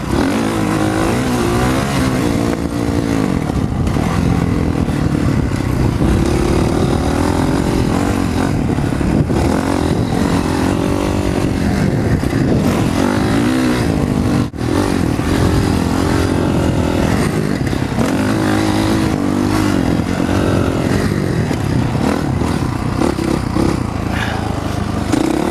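Motocross dirt bikes race at Prairie City, their engines roaring loud and continuous with revving surges and shifting pitch as riders chase each other closely.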